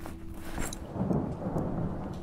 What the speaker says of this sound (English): The storm's coming in.